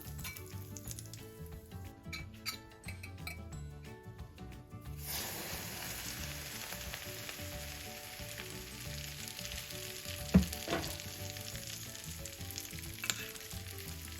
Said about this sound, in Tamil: ஆயில் ரொம்ப சூடாக இருக்கும், தெரிக்காத மாதிரி பார்த்துக்கோங்க